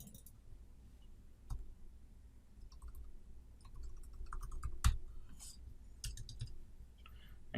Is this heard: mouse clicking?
yes